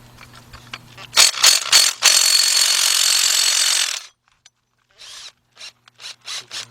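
Hand ratchet loosening a bolt on the upper control arm of a Lexus LS460: a few quick clicking bursts, then a long sustained ratcheting run, followed by short spaced clicks, close and fairly loud with no talk.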